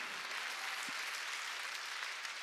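Audience applause fills a church service, a steady, dense wash of clapping from many hands at moderate distance, sustained throughout without any voice over it.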